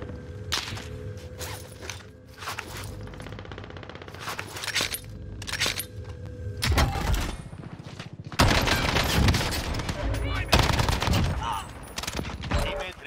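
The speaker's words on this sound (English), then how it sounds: "I ended up in a 50-50 gunfight with no cover out in the open." Gunfight in Call of Duty Warzone, out in the open with no cover: bursts of loud automatic gunfire come in rapid clusters, with scraping movement and footsteps between them and a voice speaking at times.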